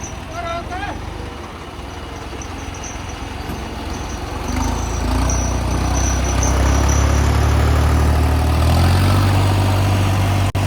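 A tractor engine idles and then revs up to a louder, steady rumble that runs continuously to the end.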